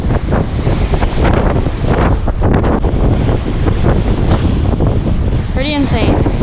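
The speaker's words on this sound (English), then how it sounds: "Giant waves on the pier." Strong storm wind roars across the microphone while big waves crash against a Lake Michigan pier, a loud, constant rumbling wash. A faint bird-like chirp rises near the end.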